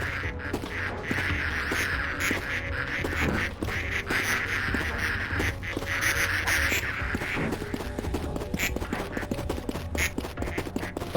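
Several ducks quack in a busy video game scene from Project P.I.T.T, the calls repeating over a dense bed of game music, footsteps and clatter at steady loudness.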